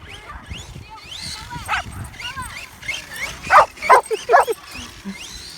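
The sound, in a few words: dog barking near RC monster truck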